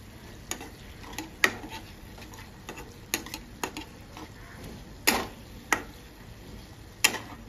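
A spoon clinks and scrapes in a pan of warm milk mixture, irregular sharp taps spaced a second or so apart over a faint low sizzle, close and alone.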